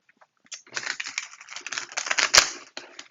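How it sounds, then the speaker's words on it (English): Close, brisk shuffling of a tarot deck, a dense papery rattle lasting a few seconds with a sharp snap near the end, no voices. "Let's get one more shuffle in."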